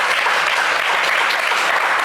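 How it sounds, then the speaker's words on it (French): A television game show studio audience applauds a new contestant on a magic-box show. The clapping is steady and full for the whole short stretch, with no voices over it. "Est-ce qu'on peut l'applaudir bien fort, s'il vous plaît?"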